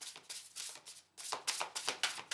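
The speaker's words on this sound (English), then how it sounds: "Let's give that one more decent shuffle." Oracle cards being shuffled by hand in repeated quick riffling bursts, close and crisp, with a short pause partway through and no talking.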